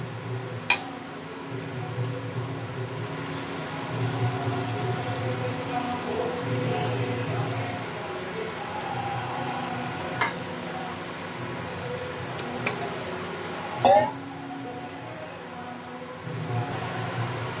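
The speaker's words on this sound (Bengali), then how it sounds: "এর মধ্যে এখন আমি চিকেনটা মিলিয়ে দেবো" Chicken pieces go into a spice paste already sizzling in oil for a chicken kosha, giving a steady, crackling sizzle throughout, with a few sharp clinks of a utensil against the pan.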